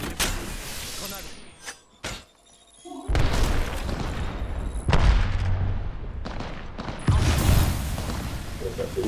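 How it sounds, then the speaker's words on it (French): Grenade blasts and heavy booms in the Apex Legends video game, several loud close explosions and bursts with rumbling decay, mixed with gunfire and other combat noise, while a player talks over the action. "Grenade."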